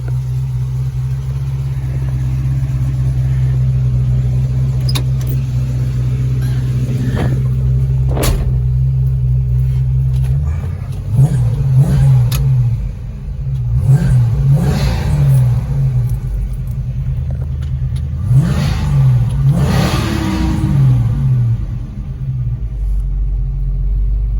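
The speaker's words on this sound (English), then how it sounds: "They you kind of got to rev them up and you got to let them idle for a while for them to warm up" An older car's engine, fitted with a new throttle body, idles with a steady deep rumble, then gets several throttle blips with surging revs. It sounds close and loud, with no talking.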